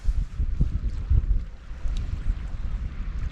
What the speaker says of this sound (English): The wind is picking up ever so slightly